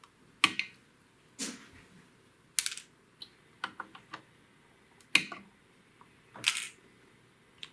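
Flush cutters snip capacitor wire leads on an original Xbox board, giving about six sharp, close clicks spaced irregularly with quiet gaps between them.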